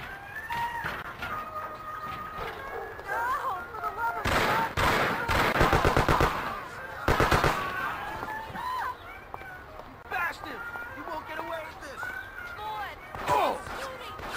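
Bursts of rapid gunfire from the 2002 video game Mafia on Xbox, a long volley in the middle followed by a shorter one, loud and close, with shouting voices and game dialogue around the shots.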